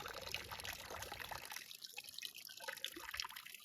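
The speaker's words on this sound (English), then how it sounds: "All of that water is just coming out of the hillside up where we park the truck." Spring water flowing out of a farm hillside into a pond makes a steady, faint rushing trickle, continuous and somewhat distant throughout.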